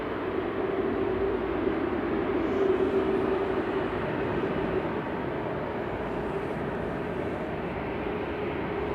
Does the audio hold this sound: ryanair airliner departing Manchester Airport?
yes